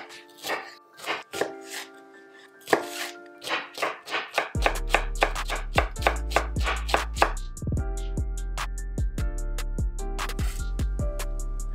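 A knife chops red onions into small pieces on a board, producing a rapid series of crisp, close taps that carries on steadily while a tonal background drone enters partway through.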